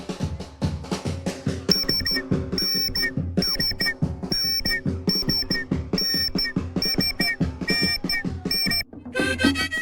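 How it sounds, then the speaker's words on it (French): Shrill whistles shriek in repeated rhythmic bursts over pounding drums and music at an Abbey yam festival dance in Côte d'Ivoire, a loud festive beat with the whistles cutting through in patterned blasts. "Ce sont des sifflets."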